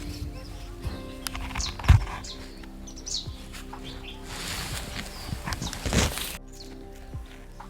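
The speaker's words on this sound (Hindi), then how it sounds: "यहाँ बगीचे में हमारे यहाँ रंग बिरंगी चिड़िया।" Colourful small birds chirping in a hillside garden near Bhimtal, brief scattered tweets at moderate distance over rustling, footsteps and low farmyard background.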